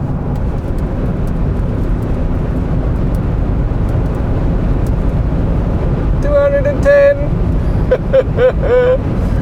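A Hyundai Ioniq 5 N at over 200 km/h, heard as a loud, steady roar of road and wind noise inside the car, with a person talking over it near the end.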